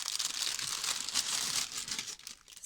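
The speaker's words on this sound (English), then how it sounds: "Sorry about the crinkling." Plastic packaging of a beaded cross stitch kit crinkles steadily up close as it is opened, with a continuous crisp rustling that barely lets up.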